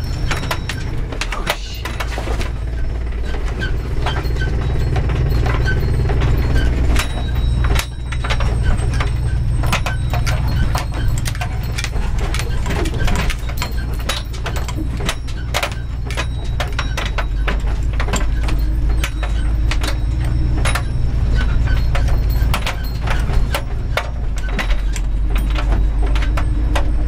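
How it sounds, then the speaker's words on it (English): A 1951 Studebaker bus with no working brakes rolls along slowly, its engine running steadily throughout while loose parts rattle and jangle in a continuous clatter over the low motor drone. "this thing drives really good, but I can't go fast because I don't have any brakes"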